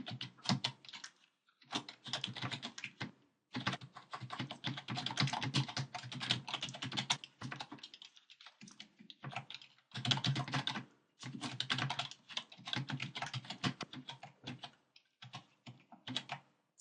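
Typing a web link on a computer keyboard: rapid, close clicking keystrokes in bursts separated by short pauses, with no voices.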